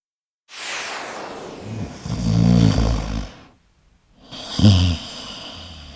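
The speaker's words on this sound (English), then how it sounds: "That seems to be like a comrade snoring." A person snores loudly and close by in two long, rasping, rattling breaths separated by a brief silent pause.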